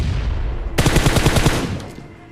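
Rapid automatic gunfire erupts in the BGMI battle royale game, a loud burst of about a dozen quick shots lasting under a second, then fading into background noise.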